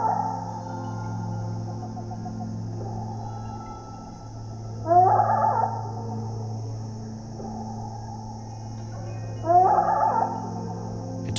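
A slowed-down hummingbird song drawn out into low, warbling, whale-like moans, with two louder swooping phrases over a steady droning background.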